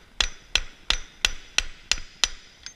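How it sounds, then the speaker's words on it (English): A hammer strikes the twisted wire end of a homemade snare, seven sharp metallic blows in a steady rhythm, close and alone. "twist up the end, turn it about 90 degrees, and just hammer it"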